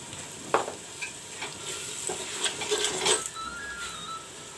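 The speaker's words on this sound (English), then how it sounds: "let the masalas fry brown" Masalas with turmeric powder frying in a pot for mutton jhol, a soft continuous sizzle with scattered scraping stirs and faint clinks, fairly quiet and close with no talk.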